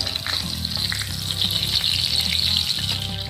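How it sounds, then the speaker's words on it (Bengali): Food frying in oil in a pan for a Bengali five-spice rohu fish curry, a loud, dense, crackling sizzle that holds steady throughout with bubbling pops close by. "ভালো করে ভেজে নেব।"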